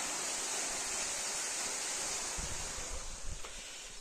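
Borewell water gushing into a well, a dense steady rushing roar close to the microphone, with a few low thuds and splashes near the end.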